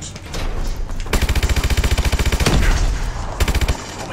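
Automatic gunfire in Call of Duty Advanced Warfare: loud, rapid rhythmic bursts of shots, a long sustained string followed by a shorter burst, with brief gaps between them.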